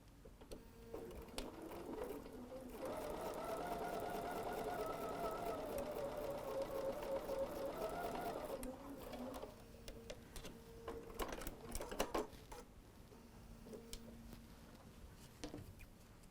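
Sewing machine stitching a quilt block seam in short close bursts, a steady whir of several seconds followed by scattered clicks and handling sounds.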